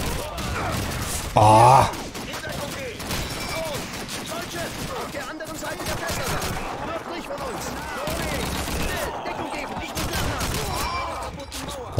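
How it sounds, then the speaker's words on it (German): Heavy gunfire crackles in a dense barrage throughout a Call of Duty 2 battle, with a sharp louder burst early on, while voices shout and groan over the continuous shooting. "Einfach mal Sperrfeuer reingesülzt, ne?"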